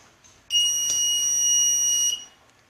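A CO2 gas leakage detector's buzzer alarm sounds as a steady, loud electronic tone that starts abruptly, holds for about one and a half seconds, then cuts off, with quiet room noise before and after.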